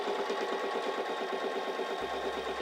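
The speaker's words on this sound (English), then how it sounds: "So let's press down on our foot control for a straight stitch." Singer 3337 sewing machine running a straight stitch under foot-pedal control, a steady rapid mechanical whir with fast needle clatter, close and continuous, with a lower motor hum joining near the end.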